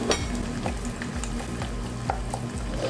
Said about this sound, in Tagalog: Gigisa na muna natin itong ating mga condiments